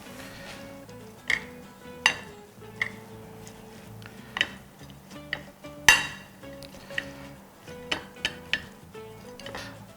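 Soaked glass noodles tossed with a little minced garlic in a dish, giving scattered clinks and taps of utensils against the plate in an uneven rhythm over a quiet kitchen background, close and moderately loud.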